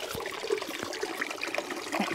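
Water in a creek at Middle Oak Creek trailhead near Las Vegas, Nevada, trickles and splashes during a hand rinse, a close, continuous babbling burble with small irregular splashes and no talking.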